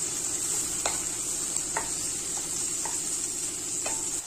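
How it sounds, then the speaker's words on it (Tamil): Sliced onions and cut green chillies sauté in oil in a pan for a vegetable biryani, a constant bright sizzle broken by about four sharp scrapes and clinks of a spoon stirring, close and steady with no talk. "இந்த வெங்காயம் எல்லாம் லைட்டா வதங்கிருச்சு"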